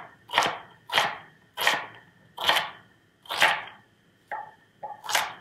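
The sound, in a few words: knife chopping an onion half on a cutting board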